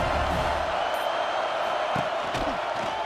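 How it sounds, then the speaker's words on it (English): Dense stadium crowd roar fills the air in the EA Sports College Football 26 video game, a constant loud wash with faint whoops and cheers rising out of it. "This crowd ready to make its presence known."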